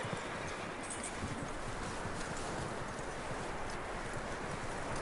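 Steady clip-clop of horse hooves at a walking pace in Red Dead Redemption 2, continuous and fairly close, with no talking over it.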